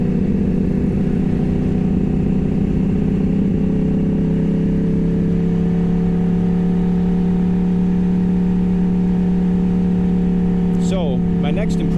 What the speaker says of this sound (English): Toce exhausts on R1s are extremely loud